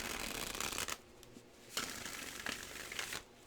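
Tarot cards being shuffled close up in quick riffling bursts, a papery flutter repeating several times with brief pauses.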